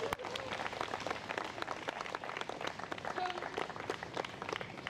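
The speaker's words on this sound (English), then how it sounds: "Yes, let's clap." An audience at a talk claps steadily, a crowd's dense applause holding at moderate volume for several seconds.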